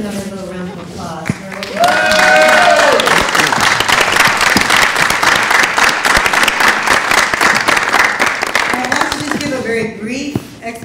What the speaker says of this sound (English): do another little round of applause.